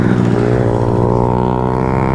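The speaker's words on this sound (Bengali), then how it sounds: "ও ভাই সুপার বাইক দেখো ভাই" A superbike's engine roars loud and close, holding a steady, strong note with a dense harmonic buzz throughout the short stretch.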